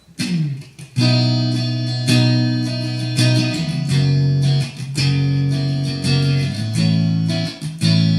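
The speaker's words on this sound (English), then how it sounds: "We're going to go for a clean tone first" Clean electric guitar chords on the neck pickup ring out loud and warm, strummed in a steady sequence with sustained notes and no distortion.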